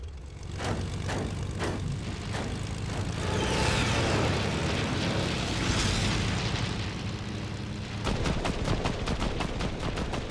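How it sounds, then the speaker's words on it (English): Gunfire in the video game Fortnite: a string of sharp, separate shots with a cluster at the end, heard over a dense, continuous rumble of game noise. "I hear gunfire."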